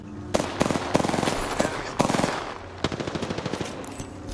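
Rapid automatic gunfire from Apex Legends weapons, several bursts of fast repeated shots with short pauses between them, loud and close, with no talking over it.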